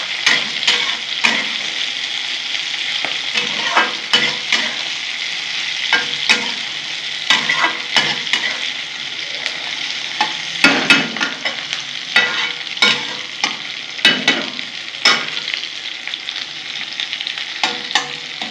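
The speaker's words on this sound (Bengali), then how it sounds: "ছড়িয়ে দিয়ে একটু নাড়িয়ে নেব।" Fried onions being stirred into a bitter gourd (uchche) dish in a sizzling pan, a constant hiss punctuated by frequent sharp scrapes and taps of the spatula, close and without speech.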